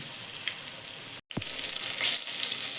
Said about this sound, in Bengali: বেগুনটাও ভাজা হয়ে গেছে